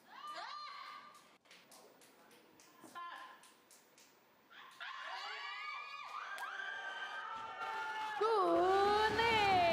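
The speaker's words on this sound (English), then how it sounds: "Good crowd support from the home crowd in Thailand." A home crowd in Thailand cheering on a weightlifter at a powerlifting world cup, rising shouts and high-pitched yells that swell louder toward the end, with a commentator talking over them.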